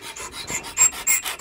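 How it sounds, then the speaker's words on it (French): A metal file scrapes an aluminium motorcycle part clamped in a vise, making quick back-and-forth rasping strokes in a steady rhythm, close and loud. "il va la mettre dans l'étau et on va limer"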